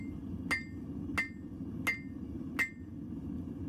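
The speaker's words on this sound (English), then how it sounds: "And that hammer is a beast." A forge hammer strikes hot steel four times at an even pace, each blow a sharp ringing clang, over a steady roar from a Devil Forge burner.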